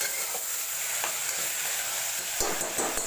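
Tomatoes and onions sizzle steadily as they sauté in a pan for Tamil Nadu style fish biryani, a close, continuous frying hiss with a few soft stirring clinks and no talking.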